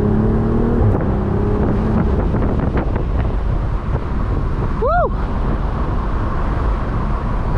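A 2023 BMW Z4 M40i roadster's engine and exhaust roar steadily while driving, heavy with wind buffeting, with a rising-and-falling pitch sweep near the end and a short excited shout from an occupant.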